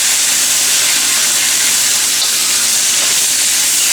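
Carrot, sweet potato and capsicum cook in a vegan stir-fry, a steady, loud, close hiss of sizzling with no break throughout.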